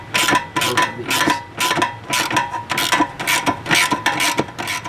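A hand ratchet turns a 10mm deep well socket loosening hex nuts on a 2011 Mustang shifter bracket, giving loud, steady rapid clicking in repeated strokes close by.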